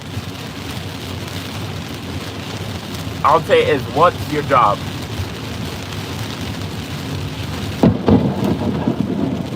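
Heavy rain pours steadily during a thunderstorm while someone drives through it, and a sudden sharp thunder crack breaks in near the end. Someone talks over the constant rain.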